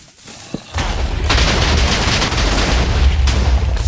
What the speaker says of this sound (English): So went down to about 100 there, with a huge TNT explosion.